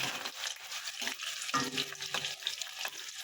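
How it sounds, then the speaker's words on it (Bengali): Chopped onion fries in hot oil for a Bengali kachu chingri dish, a soft continuous sizzle with occasional stirring scrapes, fairly quiet and with no talk over it. "পেঁয়াজ কুচিটা আমি একটু হালকা লাল লাল করে ভেজে নেবো"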